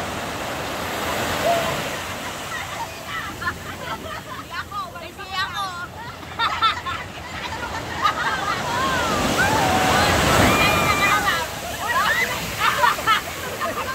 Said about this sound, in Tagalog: dito naman grabe yung lakas ng alon niya